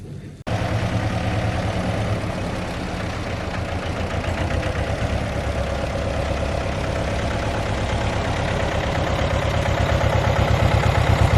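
Tractor and JCB excavator engines idling steadily in a village at midday, a continuous low, even rumble with a faint rhythmic knock that holds at the same level throughout, no voices over it.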